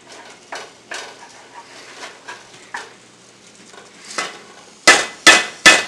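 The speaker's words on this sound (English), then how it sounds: "Just keep on stirring it." A spoon stirs upma in a pot on the stove, making a series of sharp, irregular metallic taps and scrapes against the pot, close and distinct, growing louder in the last few strokes, with no talk.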